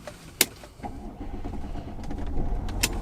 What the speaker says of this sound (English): Let's get the engine started first.